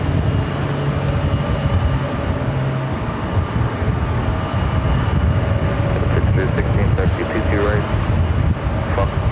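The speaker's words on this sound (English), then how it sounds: "Delta Airlines flight 767, the 767 to 300ER heading to LAX, now rolling down to runway 13 right." A Delta Air Lines Boeing 767-300ER taxis toward runway 13 right at JFK, giving a loud, continuous low engine rumble with a steady broadband roar and faint intermittent ticks throughout, and no one talks over it.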